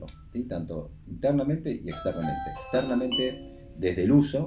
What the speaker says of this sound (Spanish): llegó alguien a casa y ese es mi timbre Wi-Fi tecnológico